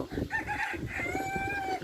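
Chickens on a farm in Saudi Arabia, with a rooster crowing loudly and clearly over a steady background of clucking and farmyard bustle.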